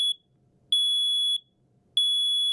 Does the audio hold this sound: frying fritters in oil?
no